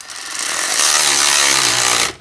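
A power tool tightening a 17 millimeter nut on a 1995 Ford F150, a loud close buzzing whir that ramps up, holds steady for under two seconds, then cuts off abruptly.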